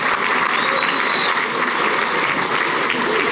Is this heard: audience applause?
yes